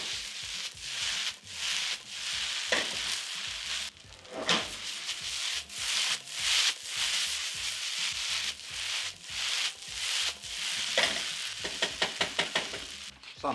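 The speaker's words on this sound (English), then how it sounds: "Break the rice lumps here, toast everything all together just to rewarm and finish the cooking." Quinoa fried rice with mushrooms stir-fried in a pan, rhythmic scraping and tossing over a soft sizzle as the rice lumps are broken up, close and without talking.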